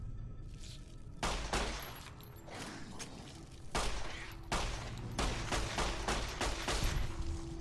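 Gunfire in Fallout: New Vegas: a series of sharp, loud shots arrives in irregular bursts, some isolated and some clustered rapidly together, each crack followed by brief ringing decay.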